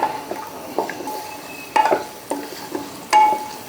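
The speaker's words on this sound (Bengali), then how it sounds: "এরকম হালকা ভাজা হতে হতেই নামিয়ে নিতে হবে।" Mixed dry fruits are lightly fried and stirred in a pan, giving a soft continuous sizzle broken by several scraping stirs and clinks of a spoon against the metal.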